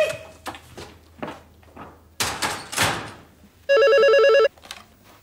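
A telephone bell rings in a single short burst in a home setting, preceded by door knocks and handling noises, with no talking over it.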